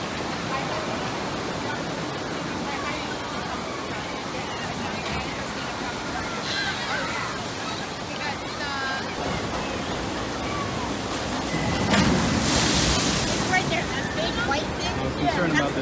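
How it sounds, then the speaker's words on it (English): Water splashing from the log flume ride at Knoebels amusement park, a steady broadband wash of spray under crowd babble and voices, rising to a louder, fuller burst of splash near the end. "I think I just barely missed the splash from the log flume."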